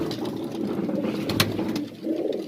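Madrasi pigeons coo steadily inside a loft, a close, continuous low cooing with a brief sharp flutter or click midway.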